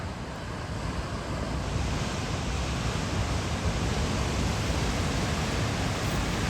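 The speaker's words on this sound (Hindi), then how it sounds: "इधर टाइड बड़ी तेज़ आ रही है" Ocean waves roll in on a Cornwall beach with a fast incoming tide, making a constant heavy roar mixed with wind buffeting, loud and uninterrupted.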